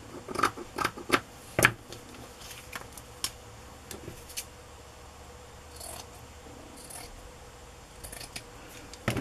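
Scissors snipping through paper for a crayon box journal, a quick cluster of close, crisp cuts early on, then sparser single snips and light handling rustles at low volume.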